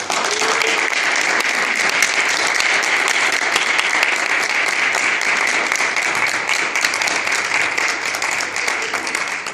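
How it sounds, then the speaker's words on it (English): An audience at a Kappa League induction ceremony applauds the new 2015 members, a sustained, dense round of clapping that stays loud and even throughout. "Let's give them a round of applause."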